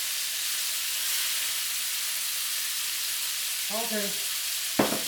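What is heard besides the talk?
black tiger shrimp sizzling in pan with sherry cooking wine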